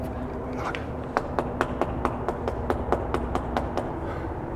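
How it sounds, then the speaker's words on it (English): Knuckles rap a concrete door at the Gates of Hell site in Pasadena, California, about fourteen sharp, evenly spaced knocks over a low background hum. "let's go ahead and knock on this one"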